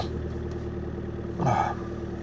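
A diesel engine idles steadily after a cold start at minus 19 degrees, a low, even rumble that swells briefly in a louder rough burst partway through before settling back to its running drone.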